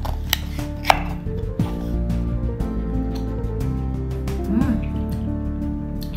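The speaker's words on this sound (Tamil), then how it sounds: "இன்றைக்கி பிரேக்ஃபாஸ்ட்டுக்கு இதை கட் பண்ணி தான் சாப்பிட போகிறேன் நான்." A knife cuts through a not-quite-ripe mango at breakfast, with scattered dull slicing and tapping sounds up close and a faint voice murmuring in the background.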